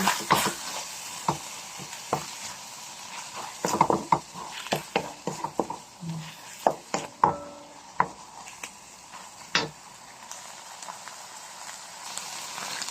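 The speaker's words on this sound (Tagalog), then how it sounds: "Kiskisin ko." Cooked penne rigate and mushroom pieces get stirred in a pan, a busy run of irregular scraping clicks and taps from the utensil over a soft steady sizzle, close and fairly loud, without talking.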